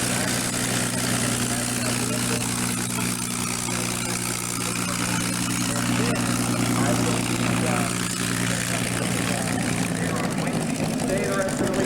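A P-51 Mustang's piston engine idles steadily at an airport show, a constant droning hum with strong low harmonics that holds level and near throughout.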